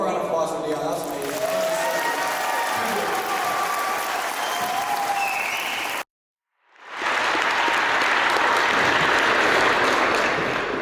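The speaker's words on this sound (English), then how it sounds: "one more round of applause for Dion" Sustained audience applause at an 8th grade graduation at Grangeville Elementary Middle School, dense and steady, stopping abruptly for a moment of silence before a second burst of clapping swells back in.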